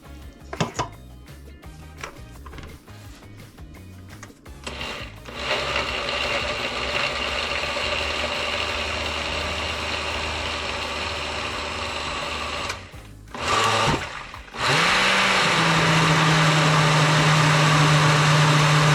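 A blender whirs loudly at a steady pitch while blending the liquid from fish tea, a soup made from fish heads and fish stock. It briefly stops, restarts, then settles into a higher, smoother spin.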